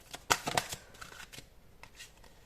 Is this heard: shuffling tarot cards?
yes